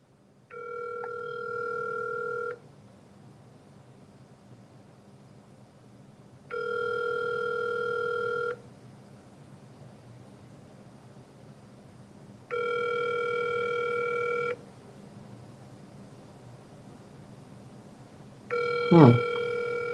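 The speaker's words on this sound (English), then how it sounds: "I'm gonna make a phone call right quick." An outgoing telephone call rings on the line: four evenly spaced ringback tones, each about two seconds long with quiet gaps between, ending in a brief click as the line changes.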